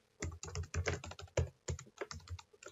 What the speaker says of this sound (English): I can still go back in and, you know, type it in here